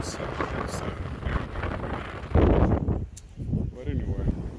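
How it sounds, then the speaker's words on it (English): Strong wind gusts buffet the microphone at Taboga Beach, Panama, with a loud rumbling roar that surges and dips under people talking nearby. "Oh my God, it's so windy."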